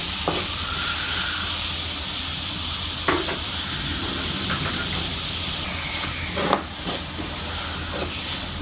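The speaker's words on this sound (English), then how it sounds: "Add enough salt and cook this until the onions are nice and soft." Onions fry with salt in a pan, a steady close hiss and sizzle running throughout, with a few soft scrapes and taps of a utensil stirring near the end.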